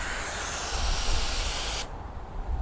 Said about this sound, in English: I'll put it into a mist function on the hose as well